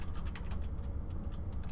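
Computer keyboard typing during a programming session, a steady run of light, fast key clicks over a low background hum, fairly quiet and close.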